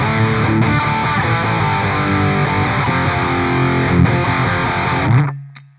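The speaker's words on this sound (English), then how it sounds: "now let's hear distortion on the bridge pickup" Gibson Les Paul Studio electric guitar with distortion on the bridge pickup, loud sustained chords that ring for about five seconds and then cut off sharply, leaving a low amp hum.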